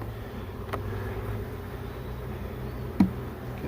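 Honey bees hum steadily at close range during a package installation into a hive, a soft continuous buzz with a brief knock partway through.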